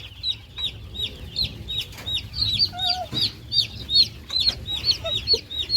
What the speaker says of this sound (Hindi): मुर्गियाँ उड़ ना जाए।